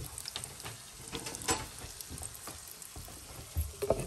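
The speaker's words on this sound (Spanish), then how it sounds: "aquí se está friendo la primera milanesa de repollo" A cabbage milanesa fries in a pan, a soft steady sizzle with faint crackles and a few louder pops, quiet and close, with no voices.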